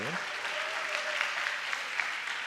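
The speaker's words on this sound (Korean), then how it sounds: "그냥 박수 치신 건가요?" A church congregation claps during a Sunday service, a dense, even patter of many hands at close to medium distance, with a brief voice or tone at the start and faint sounds underneath.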